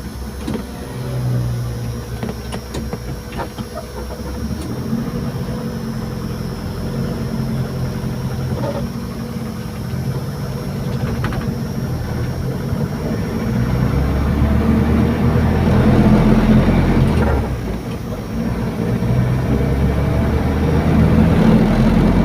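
Mitsubishi Colt T12SS engine fitted with a CDI ignition, running and being throttled on a test drive, a steady mid-level engine drone with a rising swell of throttle partway through.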